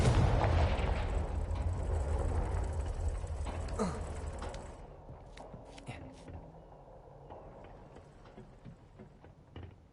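A Confringo blasting spell in the video game Hogwarts Legacy hits with a loud, rumbling blast that slowly decays into crackling debris and softer mechanical rattles.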